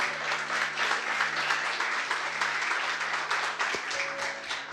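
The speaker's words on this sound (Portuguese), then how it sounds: "Você pode aplaudir a palavra do Senhor?" Church congregation applauding after a sermon, a dense, even wash of many hands clapping that holds steady throughout, with a faint tone in the background.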